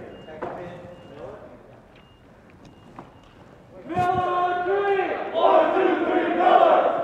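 At a school wrestling dual meet, a team cheers after a forfeit victory. Quiet talk comes first, then a loud burst of crowd cheering and shouting breaks out midway and carries on, growing stronger, to the end.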